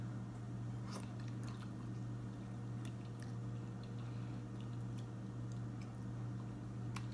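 Someone eats a mushroom curry meal, with soft close chewing and a few brief crunchy bites over a steady low hum.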